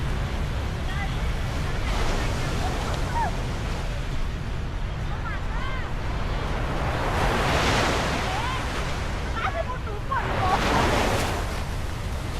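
Surf on Nha Trang beach in Vietnam rolls in during an early morning walk. Broad, washing swells rise and fall over steady wind noise on the microphone, and faint bird chirps come through now and then.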